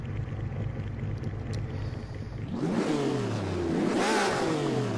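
A Ferrari from the 70th Anniversary pack in the Assetto Corsa racing game climbs in revs toward 8,000 RPM. A low idle-like hum gives way midway to a loud, rising engine howl that surges twice.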